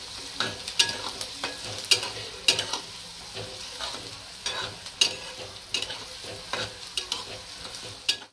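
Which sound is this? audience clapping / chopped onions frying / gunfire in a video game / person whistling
chopped onions frying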